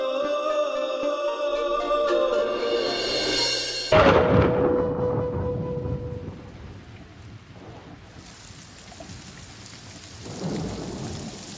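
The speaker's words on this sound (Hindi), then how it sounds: "मानव, ऐसी बारिश में गीले होंगे तो बीमार पड़ जाएंगे।" Steady heavy rain hisses after a few seconds of music, with low rumbles of thunder rolling through the downpour.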